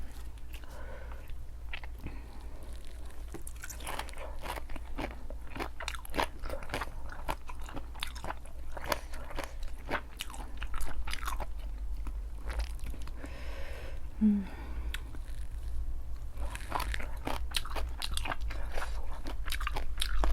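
Someone eats pickled squid tentacles up close, steady wet chewing and soft crunching in a continuous rhythm with no talking.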